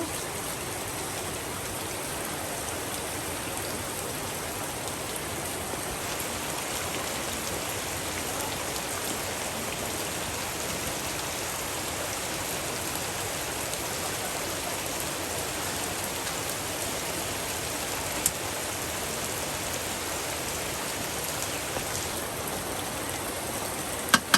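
Steady monsoon rain pours down in a village on a rainy Shraban day, an even, dense patter that stays unchanged and close for the whole stretch, with no voices.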